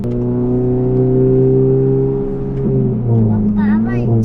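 A Honda FL5 fitted with Spoon parts idles and revs with a steady, loud engine drone that swells near the end, while a child and an adult talk over it.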